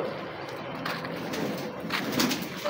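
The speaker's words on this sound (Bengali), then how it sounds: "ছাদ, এটা লিফটের রুমের মধ্যে কবুতর।" Pigeons coo softly inside a rooftop lift room, low murmuring calls near and faint against a steady background hiss, with some light clattering.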